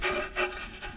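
A 3M abrasive pad rubs across a part being prepared for a horn thread repair on a 1959 Vespa 150 VBA1T scooter, giving a close, dry scuffing sound in a few short strokes with no voices.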